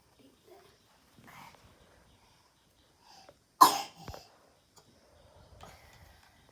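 A person gives a single sharp cough near the mic, with a smaller follow-up burst after it, set among faint room noises and brief quiet voices.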